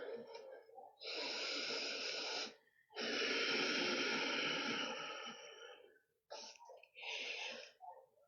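Slow, drawn-out breaths hiss through the nose during a yoga stretch: two long airy exhales, then shorter puffs, close and breathy with no other sounds.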